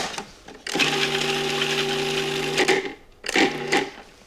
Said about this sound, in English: Just process that until the garlic and the parsley are minced